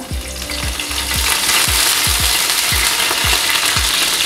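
Curry leaves crackle and sizzle in hot coconut oil in a pan, a steady loud hiss broken by a run of sharp low pops and spits, close up with no one talking.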